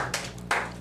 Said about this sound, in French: Je vous invite à applaudir Déborah bien avant qu'elle commence à lire